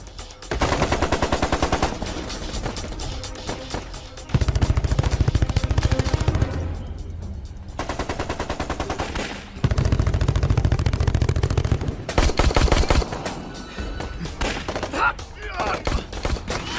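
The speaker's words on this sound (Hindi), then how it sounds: "गोलियां चलाते रहे।" Gunfire and machine-gun bursts roar through a crime-thriller shootout, rapid rattling volleys alternating with heavy loud stretches and single shots, close and intense, with brief shouted voices between.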